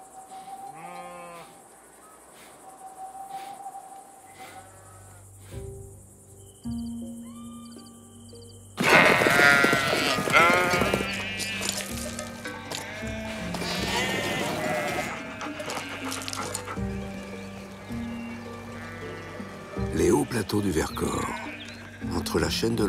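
Ewes bleating in an alpine mountain pasture, a few distinct calls near and far over a quiet background at first, then a busier mix with music and a narrating voice talking over the flock.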